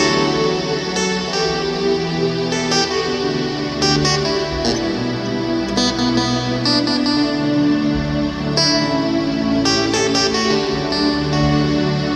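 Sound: lead guitar playing a worship song melody

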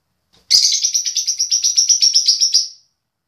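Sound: loud bird chirping

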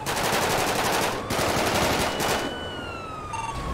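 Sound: AR rifle gunfire in video game GTA 5

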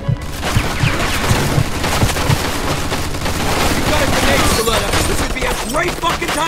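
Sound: machine gun fire in the video game Mafia II

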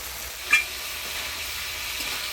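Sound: spice paste being fried and stirred with water

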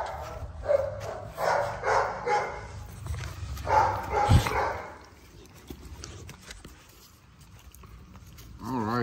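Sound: XL pitbull dogs barking

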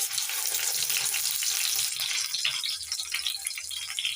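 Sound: flour dough balls frying in hot oil

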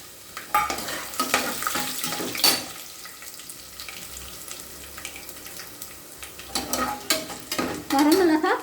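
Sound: dried red chilies frying with chana dal in oil

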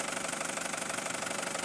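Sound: pickup truck engine idling

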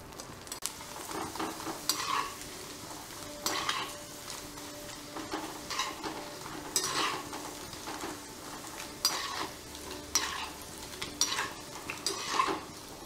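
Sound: frying sun-dried vegetables (vathal) in oil

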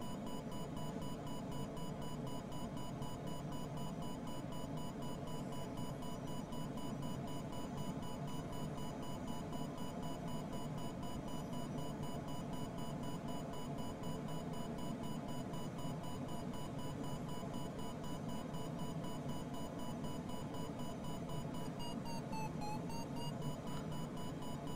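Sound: variometer beeps in glider, Microsoft Flight Simulator 2020 video game

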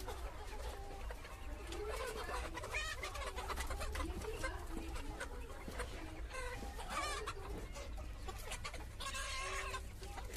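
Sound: Kaveri breed chickens clucking

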